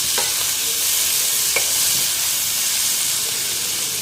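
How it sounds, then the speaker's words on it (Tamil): Chopped tomatoes fry in a pan under a steady, loud sizzle and hiss, with a few faint scrapes of a spoon stirring, heard close with no voices. "சேர்த்து நல்லா கிண்டி விட்டுக்கலாம்."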